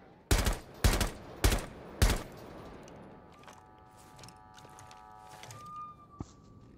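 Four loud, evenly spaced gunshots ring out in a Rainbow Six Siege gunfight, followed by softer thuds, clattering and a short ringing tone.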